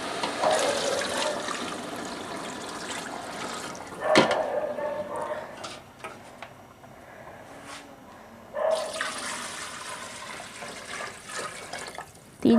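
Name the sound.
water being poured into pot for chicken pulao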